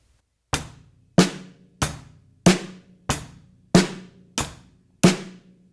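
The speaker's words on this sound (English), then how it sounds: "the first beat that we're learning is the easy rock beat" An easy rock beat on a drum set, with steady hi-hat ticks layered over alternating bass drum thumps and snare cracks, eight even hits in a relaxed, close-up groove with no voices.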